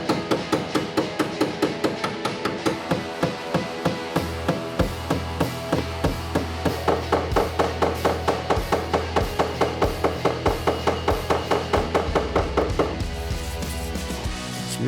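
A non-metal hammer taps out a deep crease in classic Ford bodywork, giving a long run of steady, evenly spaced close knocks with a slight metallic ring.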